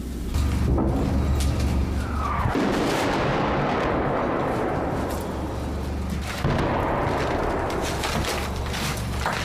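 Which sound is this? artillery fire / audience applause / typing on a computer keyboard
artillery fire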